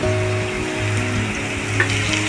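Curry leaves crackle in hot oil with vegetables already in the pan, a loud, dense, continuous sizzle close by with a low steady hum beneath it.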